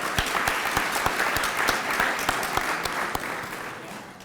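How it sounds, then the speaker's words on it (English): Steady applause from a large audience at a college Hall of Fame induction ceremony, sustained dense clapping with no talk, fading slightly toward the end. "Now we can applaud."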